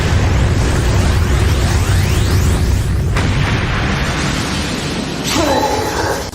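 The Raging Tempest attack from the Trails into Reverie video game roars as a loud, continuous explosive rumble, then ends in a sharper burst with a bright sweeping tail.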